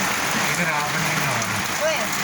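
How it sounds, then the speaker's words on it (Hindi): Heavy nighttime rain mixed with hail pours down in a dense, steady hiss close by, with a faint voice briefly in the background. "ये देखें ओले पड़ रहे हैं और रात को हो गई है यहाँ पे बारिश।"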